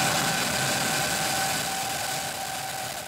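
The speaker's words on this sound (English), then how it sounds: "2, 1, ignition, engines full power, and liftoff." SpaceX Falcon 9 rocket engines roar at liftoff for the NASA Crew-5 launch, a dense continuous broadband rumble that holds loud and steady, easing off only slightly toward the end, with no voices over it.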